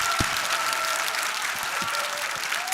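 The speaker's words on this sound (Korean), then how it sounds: "다시 한번 뜨거운 박수를 보내주시기 바랍니다" An audience applauds after a lecture, a steady wash of many hands clapping at once, loud and sustained for the whole stretch.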